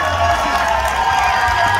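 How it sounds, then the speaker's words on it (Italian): A crowd at a Palio del Seprio greasy-pole climbing contest in Abbiate breaks into steady applause and cheering, a dense continuous roar with scattered shouts heard from nearby. "Qui scatta un applauso."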